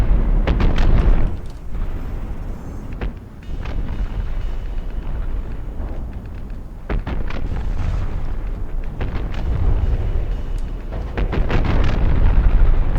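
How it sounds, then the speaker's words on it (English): Missiles strike and explode over and over in the strategy game SPOS 2. Loud, booming blasts come in clusters against a constant roaring rumble. "the missiles are starting to actually hit"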